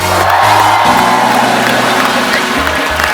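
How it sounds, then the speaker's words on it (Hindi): A television comedy studio audience claps and cheers loudly for arriving guests, a dense roar of applause with whoops and shouts and a musical fanfare underneath throughout. "जोरदार तालियों से स्वागत होना चाहिए।"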